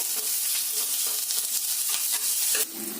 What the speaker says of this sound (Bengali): এই তেলের মধ্যে দিয়ে দিলাম দুটো শুকনো লঙ্কা আর কুচিয়ে রাখা পেঁয়াজ দিয়ে ভালো করে ভেজে নিতে হবে